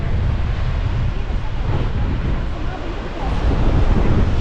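Strong wind buffets the microphone at Lucky Bay beach in Esperance, a loud continuous roar with possible surf underneath, steady throughout.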